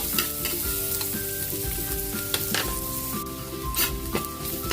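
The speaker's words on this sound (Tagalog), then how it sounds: "Lagyan natin ng butter. Lagyan na rin natin yung ating garlic" Garlic frying in butter in a pan for pork ribs caldereta, a continuous close sizzle with stirring scrapes and occasional utensil clinks, fairly loud and busy.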